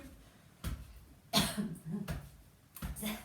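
A person coughs several times in separate bursts during a zen gym tapping exercise, fairly close, with quiet room tone in between.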